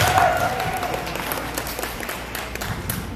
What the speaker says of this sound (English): So can we get a huge, huge clap for our fifth graders?